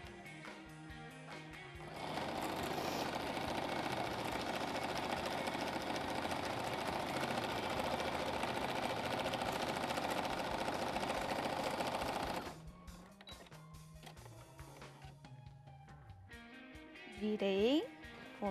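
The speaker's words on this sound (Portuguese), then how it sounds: "Virei, vou fazer mais uma costurinha." A sewing machine runs steadily for about ten seconds, stitching the fabric lining onto the front of a handmade planner cover, with short pauses and a little handling noise at either end.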